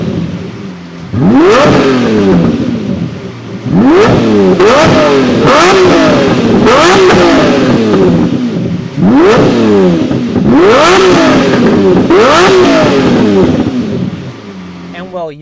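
A Lamborghini Murcielago V12 engine being revved repeatedly, roughly six sharp howling blips that rise and fall in quick succession, loud and close, with brief gaps between bursts.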